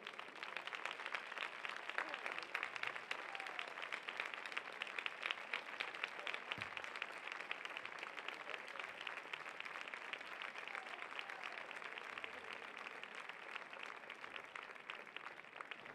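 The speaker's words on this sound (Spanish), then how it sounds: "Venga ese aplauso." Steady audience applause at a flamenco festival in Puente Genil, a dense, continuous wash of many hands clapping, somewhat distant and even throughout.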